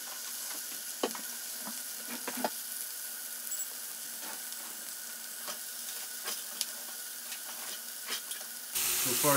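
Bacon sizzling in a carbon steel skillet on a portable induction cooktop, a steady hiss with occasional pops and spatula scrapes, fairly quiet and close, ending in a sudden louder burst.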